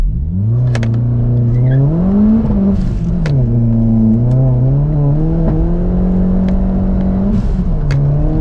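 A Ford Focus RS Mk1 turbo engine revs hard under acceleration, its loud, close tone climbing and dipping through several gear changes with clear harmonics and a few sharp clicks.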